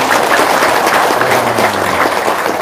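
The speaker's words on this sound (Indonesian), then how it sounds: "Tepuk tangan untuk kita semua." A crowd applauds at an Indonesian Islamic religious gathering, dense steady clapping filling the whole stretch, loud and close.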